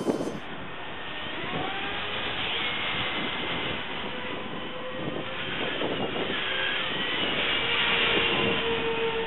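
A high-pitched ducted fan whine sweeps past in a steady flyby, rising and shifting in pitch as a small scratch-built YC-14 RC park jet passes, with no talking.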